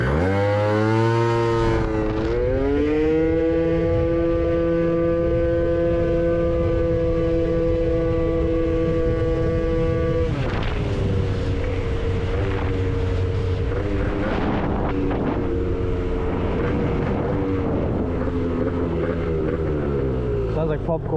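A Gilera Runner 180cc scooter fitted with a Malossi exhaust and a 28mm carburetor, its engine droning loudly and steadily with shifting revs over about twenty seconds, while voices talk over it.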